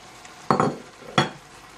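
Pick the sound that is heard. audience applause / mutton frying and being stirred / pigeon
mutton frying and being stirred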